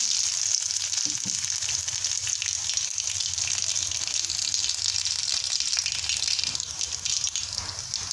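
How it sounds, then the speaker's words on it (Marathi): Garlic, cumin and mustard seeds fry in hot oil for a Marathi guava vegetable dish, a steady loud hiss and crackle that holds evenly throughout with no voice over it. "मस्तपैकी तेल गरम झालेलं आहे आता आपण पहिल्यांदा लसण टाकून घेऊ लसूण झालं की जिरे मोहरी"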